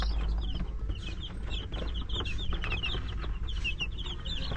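Young chicks bought as day-olds and now about 45 days old cluck and peep steadily and close by on a backyard farm, a dense chatter of many birds with no voices.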